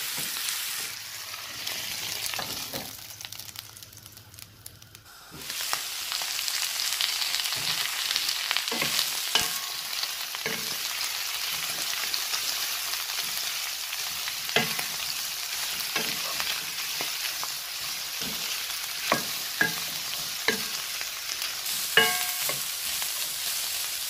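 Ethiopian-style tripe frying over low heat, a steady close sizzle with repeated sharp scrapes and knocks of stirring throughout; a quieter stretch at the start gives way to fuller hissing after a few seconds.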